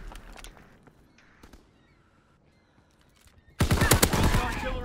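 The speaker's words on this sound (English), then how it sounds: "He almost gunned me with a pistol" Gunfire in Call of Duty: WWII on the London Docks map, in a capture-the-flag match: faint clicks and steps, then a sudden loud burst of rapid shots that carries on to the end.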